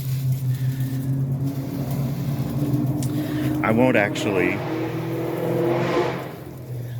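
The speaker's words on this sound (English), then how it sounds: "Wow, the traffic's noisy." Steady road traffic rumbles past a home garden, a continuous low drone that swells as vehicles go by, while a person talks over it in the foreground.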